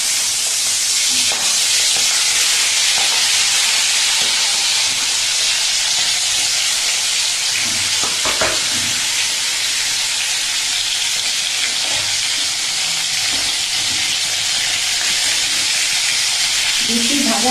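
Prawns coated in salt and turmeric fry in hot oil in a wok, a loud, dense, continuous sizzle and hiss close by, with occasional faint stirring.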